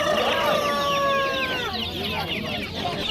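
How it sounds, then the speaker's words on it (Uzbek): Clucking and high peeping of homemade chicks fill a busy poultry bazaar in Mingbuloq, with a few drawn-out calls over the crowded flock, and a voice briefly talking underneath. "O'zimizda xonaki jo'jalar bor"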